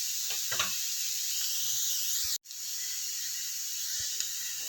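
Onions sauté in a pan with a little salt, a steady close sizzle and hiss with a few faint clinks from stirring and one brief dropout, and no talking.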